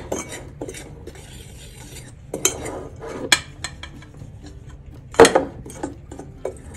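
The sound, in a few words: stirring pork belly marinade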